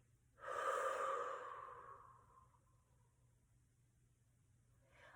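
A single deep, audible breath during a children's movement warm-up swells up strongly, then slowly fades out, followed by the start of another breath at the end; close and fairly quiet, with no talking.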